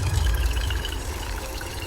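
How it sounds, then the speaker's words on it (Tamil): A steady, low-pitched rush of water, like liquid being poured into a pot, continuing without pause at moderate loudness. "தண்ணி ஊற்றுறாங்க."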